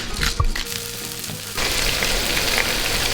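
Meatballs frying in a pan, a quieter start with a few clinks, then a dense, steady crackling sizzle rising for the remaining seconds.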